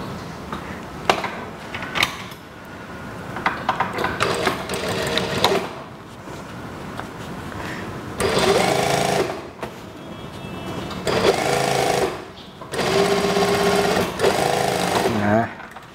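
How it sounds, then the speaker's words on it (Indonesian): A sewing machine stitches a long elastic-waist skirt in three loud bursts of rapid mechanical whirring, separated by pauses filled with fabric handling and a voice speaking nearby. "Oke, bentar dijahit, ikuti saja garis ini."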